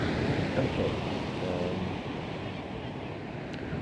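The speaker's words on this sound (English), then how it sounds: "I'm going to continue to watch the waves here." Steady wash of ocean waves breaking at a distance, a continuous rushing roar with wind buffeting the microphone and a short spoken word partway through.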